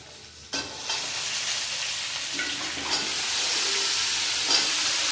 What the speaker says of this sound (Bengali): এখন ধুয়ে রাখা শাকগুলো দিয়ে দেবো।